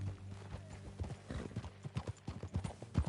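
Horse hooves clip-clopping at a steady riding pace in Red Dead Redemption 2, fairly close and moderately loud, with a brief whinny-like sound mixed in under ambient game sound.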